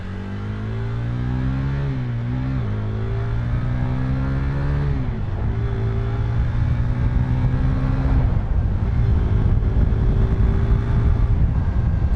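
A motorcycle engine rises in pitch as the bike gains speed, with gear changes and strong wind rush, loud and continuous from the rider's position.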